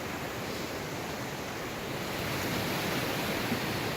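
A steady, broad rushing of cold spring water flowing near a bridge at Wondo Genet, Ethiopia, constant and moderately loud throughout, with no voices.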